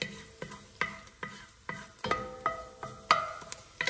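Garlic sizzles in a hot pan while a utensil stirs it in quick repeated scrapes and taps, about eight strokes over a constant frying hiss, close up and with no voices.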